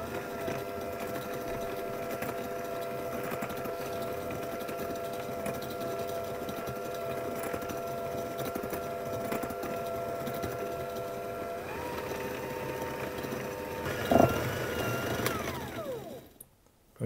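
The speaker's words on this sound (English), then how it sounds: "I'm using my hand mixer." An electric hand mixer beats cake batter in a kitchen, a steady loud motor whine running continuously for about fifteen seconds, then shifting and stopping near the end.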